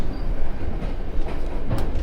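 A third-class passenger train runs on rails toward Ungheni in rural Moldova, heard from inside as a loud, continuous low rumble with faint wheel clatter and no talking.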